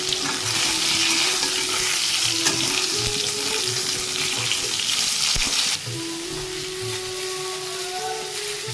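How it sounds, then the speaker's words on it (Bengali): Pointed gourd pieces frying in oil in a pan give a loud, steady close sizzle with occasional stirring scrapes, continuous throughout, easing slightly toward the end. "পটলটা হালকা ভাজা হওয়ার সঙ্গে সঙ্গে আলুটাও দিয়ে নিয়েছি"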